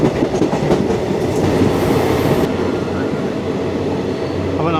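The Amrita Express rolls into Thrissur station, carriages rumbling and clattering over the rails in a loud, steady run with a brief squeal of wheels, heard alone.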